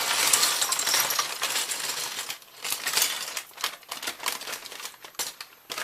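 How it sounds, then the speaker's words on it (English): Lego pieces from a Star Wars Millennium Falcon set tumble onto a table, giving bursts of bright plastic clattering and scattered clicks, mixed with crinkly rustling of a plastic bag being opened, close and uneven with quieter gaps. "Apologies for the awful rustle of plastic opening. And cacophony of Lego on table."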